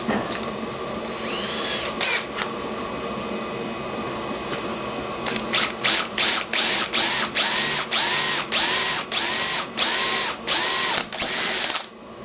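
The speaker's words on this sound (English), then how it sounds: "I'm going to drill a hole in it first" A drill bores into a thick heavy-wall copper piece, first a steady whine, then a series of repeated loud grinding bursts as the bit cuts in and out, close and alone.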